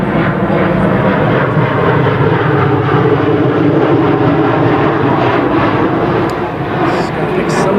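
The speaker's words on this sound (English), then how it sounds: "Wait till the plane passes." An airplane passes overhead during an outdoor press interview, a loud, steady engine roar that fills the whole stretch and eases slightly near the end, with no voices over it.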